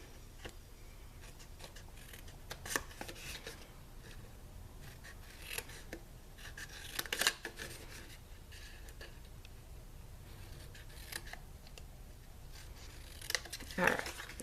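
Sharp scissors snip darts out of score lines in a paper truffle bag, several quick crisp cuts spread out over steady light background noise, with a person talking between snips.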